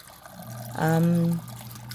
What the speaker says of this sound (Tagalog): Tapos lalagyan ko ng tubig.